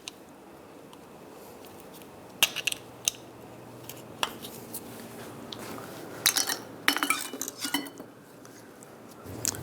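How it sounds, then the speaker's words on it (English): Screwdriver prying the caps off a brake caliper on a 1998–2010 Volkswagen Beetle, producing scattered sharp metallic clicks and clinks over a quiet background, with a few clustered bursts. "take these two caps off. Just pop these off with a screwdriver or a pick"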